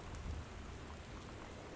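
Rain patters steadily on a house on a stormy night in the video game Gone Home, a faint, even hiss with a low rumble underneath and no voices.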